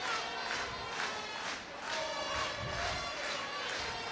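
A crowd at a women's Six Nations rugby match between Ireland and Italy roars in swelling waves of cheering and chanting, loud and continuous across the stand.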